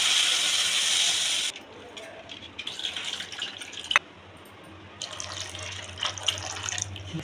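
Water runs from a tap into a pot for tamarind-based fish curry, a steady bright pour at first, then quieter splashing and clinking over a low hum.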